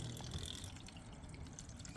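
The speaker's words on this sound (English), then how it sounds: "any surplus water will come out if it is not drained properly because of the blockage" Water gushes and trickles steadily in a continuous wash of noise, draining from a Samsung washing machine with a blockage, close by with no voices.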